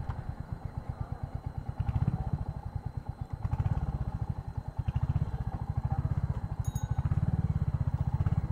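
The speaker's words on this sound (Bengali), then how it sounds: "বাইকটা ডিসেলারেশনের সময় আসলে একটা সাউন্ড পাই আমি, এই সাউন্ডটা শি করে একটা সাউন্ড দেয়" A Royal Enfield Hunter 350 motorcycle engine thumps in a fast, regular single-cylinder pulse, close up, its beat rising and easing in waves as it slows, with no talk.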